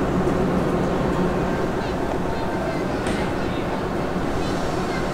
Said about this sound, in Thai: ขบวนรถจอดเทียบในชานชาลาที่1เป็นขบวนรถท้องถิ่นขบวนที่427